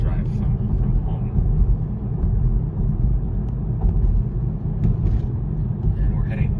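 A car heading north on M52 near Perry, Michigan, gives a steady, close road rumble with continuous engine and tyre noise from inside the cabin.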